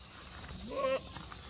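A goat on a farm with cattle gives one short, faint bleat that rises briefly over quiet background noise.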